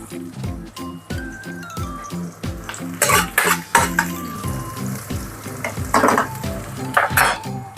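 Garlic frying in a pan for a bean sprout and fish tofu stir-fry, with a steady sizzle under repeated stirring scrapes and clinks of a utensil against the pan, plus a few louder bursts of hiss.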